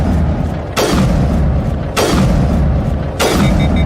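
A sniper rifle fires in Mass Effect 1 Legendary Edition, with three loud, booming shots at roughly one-second intervals, each followed by a rumbling tail.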